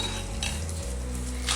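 A spoon scrapes and clinks against a cooking pot as lentil payasam (parippu pradhaman) is stirred, with a short run of close metallic knocks over a low steady hum and no talk.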